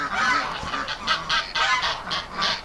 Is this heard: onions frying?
no